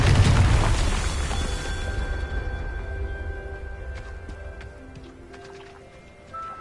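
A Confringo spell in the video game Hogwarts Legacy sets off a loud explosion, a heavy boom at the start that fades into a long, rumbling decay with some faint crackling toward the end.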